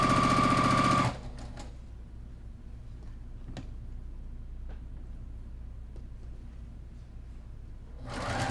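A sewing machine runs steadily at close range, stitching fabric at a shortened stitch length in a quilting session, with a brief louder burst at the start and a few light clicks along the way.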